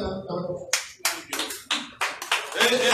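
A crowd at a political rally in Ajegunle breaks into clapping of praise, a string of loud slaps that grows into denser applause after a voice speaks at the start.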